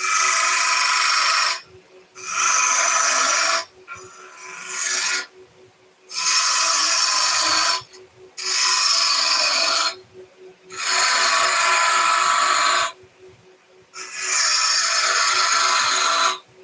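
A 3/8 bowl gouge cuts wood on a lathe in repeated bursts of harsh scraping, about seven close passes of a second or two each separated by brief quiet gaps, with no voice.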